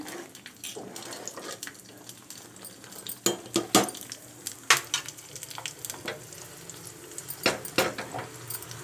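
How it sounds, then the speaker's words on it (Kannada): Sabudana payasam bubbles on a stove, its thick surface giving irregular soft pops and plops over a low simmering hiss, with a few louder bursts close by. "ಪಾಯಸನೂ ರೆಡಿಯಾಗಿದೆ ಅದು ಕುದೀತಾ ಇದೆ"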